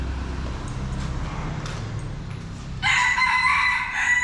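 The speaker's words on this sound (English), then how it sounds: "There's even chickens in here." Chickens clucking under low rumbling background in a Saigon alley, then a loud, bright rooster crow bursts in near the end, close and sustained.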